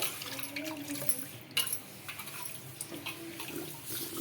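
Ragi grains washed by hand in water, with soft sloshing and trickling at low volume, small splashes and one sharper splash partway through.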